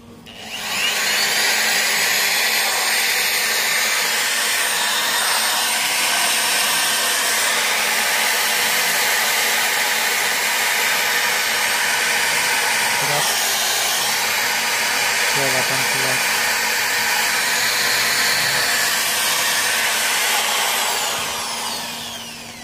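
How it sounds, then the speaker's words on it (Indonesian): A steady, loud motorized whine from an electric drill powered through a 750-watt DC-to-AC inverter runs continuously for the whole stretch, like a power tool under load, with a few brief shifts in pitch near the middle. "Kalau kita bebani bor"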